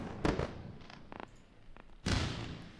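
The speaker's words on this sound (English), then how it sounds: "Let's run a round of fireworks for that, for celebration." Fireworks bursts crackle and pop in a few scattered bangs, then a bigger burst that trails off, heard faintly with no talking.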